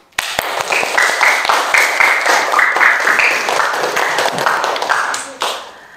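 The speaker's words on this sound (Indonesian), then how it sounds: "Kita kasih aplaus untuk ketiga kelompok." Classroom applause for three presentation groups: a few opening claps swell into steady, close, lively clapping from many students, then fade out after about five seconds.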